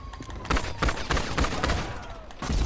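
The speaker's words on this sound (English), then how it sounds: "See if we can kill this guy with a ceramic pistol." Ceramic pistol fire in GTA 5 Online, a rapid run of sharp in-game shots in bursts across the clip, loud and close, with faint game ambience between them.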